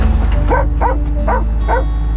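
A dog barks four times in a steady rhythm, close and loud, over a constant low engine hum from construction equipment working on a pond site.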